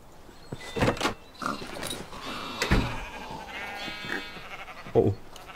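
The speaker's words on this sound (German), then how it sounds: "Geil, wir haben Schweine!" Pigs in the Minecraft video game make several short, close oinking calls spread across the clip over a quiet game background.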